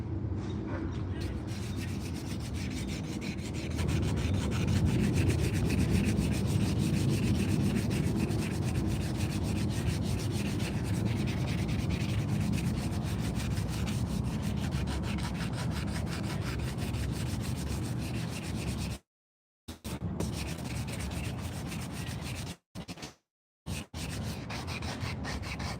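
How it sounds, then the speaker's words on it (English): Steady close-up rubbing and scratching of sandpaper on a carved wooden spoon, continuous strokes with a couple of brief pauses near the end. "This is the most tedious part of the whole project right here, is the sanding"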